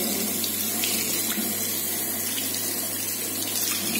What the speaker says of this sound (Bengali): তো দেখতে পাচ্ছ জলটা ছেড়ে দিচ্ছি।